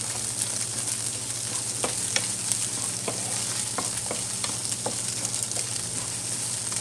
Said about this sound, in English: Slowly fry until the green onion release good smell.